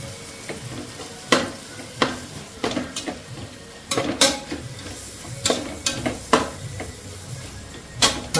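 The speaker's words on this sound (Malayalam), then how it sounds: "അരമുറി ചെറുനാരങ്ങ നമുക്ക് പിഴിഞ്ഞ് ചേർത്ത് കൊടുക്കാം. എന്നിട്ട് നന്നായിട്ട് മിക്സ് ചെയ്ത് കൊടുക്കാം." A spoon scrapes and clanks through beef biryani masala mixed with squeezed lemon juice in a pressure cooker, making repeated sharp metallic strokes over a soft, continuous sizzle.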